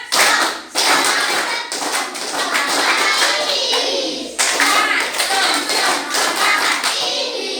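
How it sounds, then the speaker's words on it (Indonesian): A classroom of students performs the rhythmic 'tepuk semangat' clapping chant, loud, close hand claps in quick patterned bursts mixed with children's chanting voices, with a brief pause partway through. "Oke, ayo kita mulai. Tepuk semangat."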